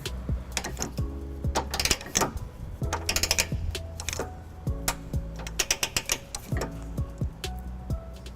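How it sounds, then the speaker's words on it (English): A ratchet torque wrench tightens M12 trailer hitch bolts on a 2014 Toyota Prius Plug-In, producing rapid close metallic clicking in repeated bursts of strokes with short pauses between, loud and alone. "We can go ahead and tighten down our M12 bolts to 86 foot-pounds"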